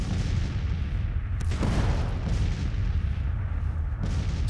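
Artillery booms in the Civil War strategy game Grand Tactician, a heavy cannon blast near the middle and another toward the end over a continuous low battlefield rumble of gunfire.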